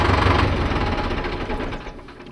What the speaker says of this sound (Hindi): 7 फीट का रोटावेटर एकदम इजी चला ले रहा है